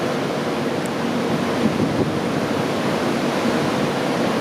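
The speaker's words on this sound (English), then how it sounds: "this is what the Atlantic looks like when it's angry" Rough, angry Atlantic Ocean waves seen from a ship at sea surge and hiss in a loud, continuous wash mixed with wind rush, with no voices.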